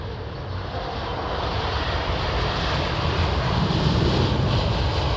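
A jet airliner rumbles in to land at London Heathrow Airport, a broad steady engine roar with low rumble, heard from a distance and slowly building in loudness, with no voices.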